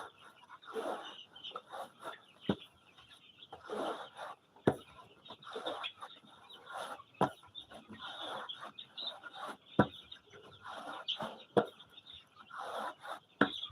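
Noira chickens in a brooder give short, scattered clucks and chirps, along with sharp knocks and rustling at close range, with no talking.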